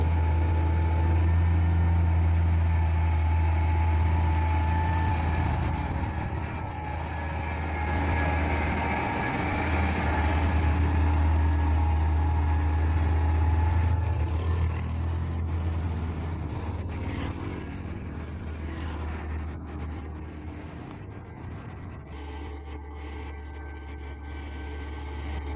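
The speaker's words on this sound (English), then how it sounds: "Now the truck is sweeping into the next turn to conquer this bend." An overloaded truck labours up an 8% mountain grade on a pass, its engine a steady low drone that swells and fades slightly with wind noise over roughly half a minute, with no voices.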